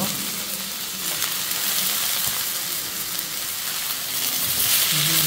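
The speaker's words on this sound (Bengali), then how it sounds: "দিয়ে একটু ভালো করে ভেজে নেব" Garlic cloves and coriander leaves fry in a pan with green chillies, giving a loud, continuous close sizzle with occasional stirring.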